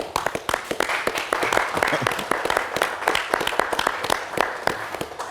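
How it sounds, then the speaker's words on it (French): Applause with cheering from a church congregation in a French-language worship service, greeting a graduating class of ten pastors; dense, steady clapping throughout at moderate level, with no talk over it. "on va les saluer par des acclamations."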